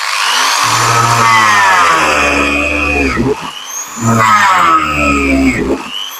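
An angle grinder fitted with a drill head attachment whines loudly, winding down after a few seconds, then revs up again in a second high-pitched burst before slowing.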